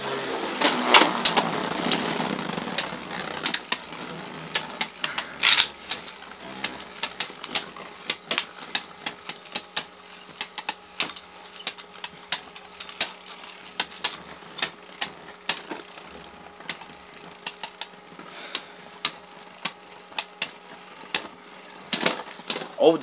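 Beyblade spinning tops God Valkyrie and Arc Bahamut battling in a stadium: a launch whir, then a steady spinning hum broken by many sharp metallic clashes and rattling hits, close and loud.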